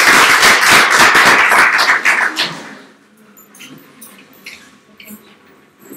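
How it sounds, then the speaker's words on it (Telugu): A church congregation at a Telugu sermon claps hands together in a loud, dense burst of applause lasting a couple of seconds, then it quickly fades into quiet room noise with a few scattered faint sounds. "Let's give God a clap offering."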